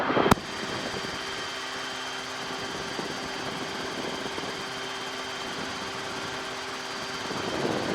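Steady droning engine of a RotorWay helicopter flying nearby on the downwind leg for runway 27, with a constant hum and faint tonal whine, continuous throughout with a brief click at the start.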